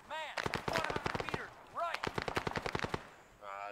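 Automatic gunfire in the video game Arma 3 S.O.G. Prairie Fire, two close bursts of rapid shots, each opening with a whooshing swell, the second burst ending in silence before a fainter rattle.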